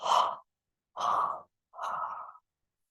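Three soft, breathy exhales come close to the microphone during a calming breathing exercise, each about half a second long and separated by short pauses, with no talking.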